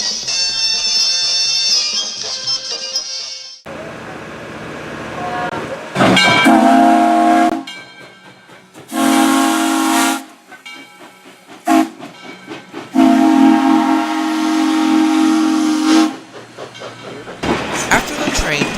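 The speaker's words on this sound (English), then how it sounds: "After the train departs the yard" A train pulls out of a busy rail yard in St. Louis, Missouri, its steam whistle sounding in repeated loud blasts between bursts of hissing steam and rolling rail noise.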